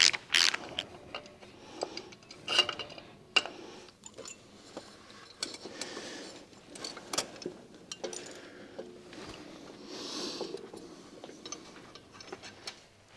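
A ratchet tightens oil cooler fittings on a six-cylinder BMW E36 during an oil cooler kit install, giving short irregular clicking bursts and ticks, fairly close, with no talk over them.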